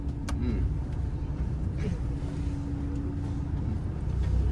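A tour bus rolls through the inner streets of a town in Turkey, its steady engine rumble and road noise filling the scene at a constant, moderately loud level, with faint background sounds and no clear talk.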